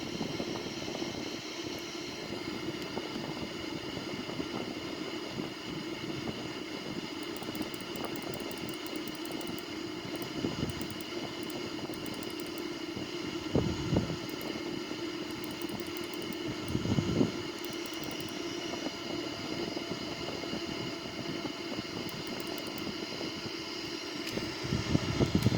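A Boeing 787-9 climbs out in a flight simulator game, its engines a steady, moderately quiet drone with wind-like rush and occasional soft cockpit clicks, with no voices.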